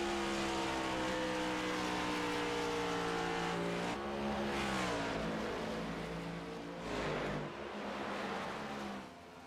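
A Chevy stock car engine drones steadily at high revs in a sim racing NextGen Cup race at Rockingham, with gear-like pitch shifts and another car briefly passing, loud and sustained without talk.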